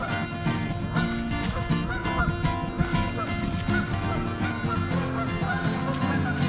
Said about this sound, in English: Then we started to hear the geese.